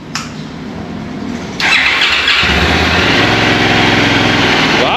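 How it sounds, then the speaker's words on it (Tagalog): A QJMOTOR adventure motorcycle with a stock pipe cranks, catches and fires up close, then settles into a loud, steady running note with a brief rev as the engine comes to life. "I-soundcheck na natin itong motor."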